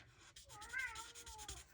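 A house cat gives a single drawn-out, wavering meow from somewhere nearby, faint and slightly muffled, lasting about a second.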